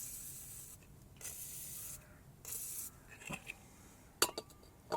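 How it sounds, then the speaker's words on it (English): Aerosol can of penetrating fluid sprayed onto the front anti-roll bar bush mount bolts of a Mk1 Skoda Fabia 1.9 PD, several short hissing bursts close by, followed by a few light metallic clinks. "Spray the bolts with some penetrating fluid and let it soak in"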